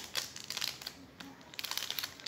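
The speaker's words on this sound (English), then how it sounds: "You get the green tea bag, and then you remove the bag" A green tea bag is pulled from its paper wrapper in a run of close, irregular crinkles and rustles, with no voices over them.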